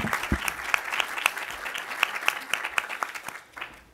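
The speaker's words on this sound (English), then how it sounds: "Could you please give them a big round of applause?" Scattered audience applause for event sponsors at an evening speaker series, individual claps standing out distinctly and dying away after a few seconds.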